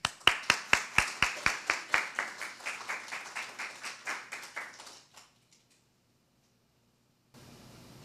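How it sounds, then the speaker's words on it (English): Rhythmic, evenly spaced hand claps ring out loud and close at a community talk event, fading over about five seconds before a quiet pause and faint room noise. "Give a round of applause for Marco Farbetti."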